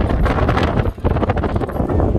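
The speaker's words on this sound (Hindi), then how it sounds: "आपको हवा की आवाज़ माइक में रिकॉर्ड हो रही होगी" Strong wind buffets the microphone with a loud, continuous low roar and rumbling gusts, with a brief dip in the middle, outdoors beside a motorbike as dusk falls.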